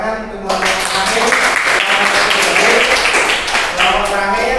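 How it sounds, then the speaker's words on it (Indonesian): A classroom audience claps for the last presenting group, a loud steady round of applause with voices speaking over it. "Tepuk tangan untuk kelompok terakhir."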